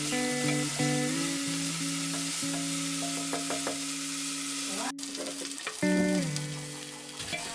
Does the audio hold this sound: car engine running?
no